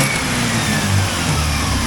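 Engine of a 1980 Triumph TR7 revving under throttle, a steady low rumbling drone that stays loud and continuous through the short stretch, close by with no talking.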